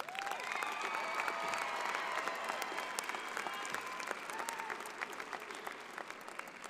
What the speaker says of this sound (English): Let's give these hardworking young people a special round of applause.